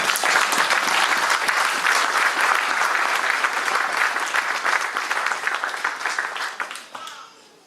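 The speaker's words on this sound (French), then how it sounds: "Est-ce qu'on peut acclamer pour le Seigneur?" A church congregation applauds loudly for the Lord, a dense, sustained roar of many hands clapping together that slowly thins and fades out at the end.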